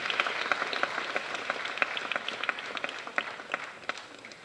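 An audience at a film first-look launch event applauds steadily, a dense patter of many hands clapping at middling distance with scattered sharper claps standing out, continuing without pause and with no talk.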